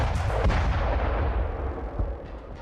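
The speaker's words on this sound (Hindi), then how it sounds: "इजराइल की एयरफोर्स ने 100 से ज्यादा ठिकानों पर भीषण बमबारी की" Israeli air force bombardment in Gaza: heavy, rumbling explosions and booming blasts, loud and continuous over a few seconds, with no speech.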